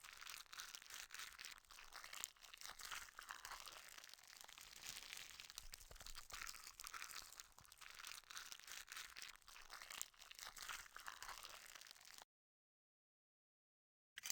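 Continuous wet crunching and crinkling as organs are cut during a dissection in the video game Bully, a dense textured scrape lasting about twelve seconds before cutting off to silence, with no voices.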